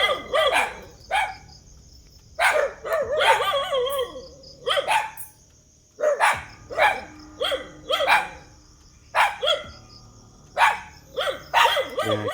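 Dog barking in repeated short bursts and clusters with pauses between them, fairly close and loud, heard alone without talk.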